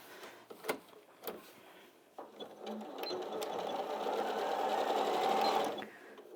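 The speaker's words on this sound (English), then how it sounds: "I'm just going to sew straight across" An Elna 680+ sewing machine stitches straight across a bag corner, a few clicks and taps first, then a steady close whirring run of about three seconds that stops abruptly.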